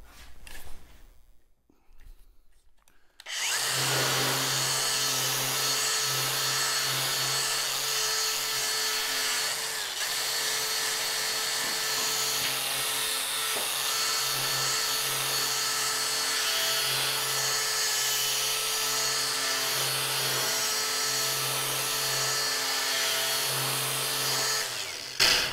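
A 3M Scotch-Brite Clean and Strip Pro disc on a power tool stripping rust from steel, with a sustained loud, steady whine and grinding roar that starts after a few quiet seconds and runs on without pause.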